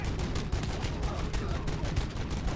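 Rapid gunshots in a RoboCop video game crack out in a steady, rhythmic volley of loud close shots, repeating without a break across the clip.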